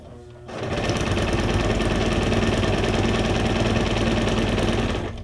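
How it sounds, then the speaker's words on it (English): A sewing machine runs a straight stitch on junk journal ephemera, starting after a brief pause and whirring steadily and loudly for about five seconds before stopping. "So we're just gonna do a straight stitch on this."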